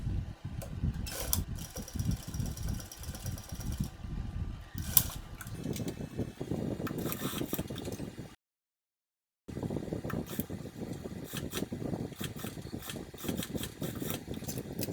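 Sewing machine topstitching a seam on a corset top, running in fast steady bursts of close mechanical whirring and needle clatter, broken by a short silent pause before stitching resumes.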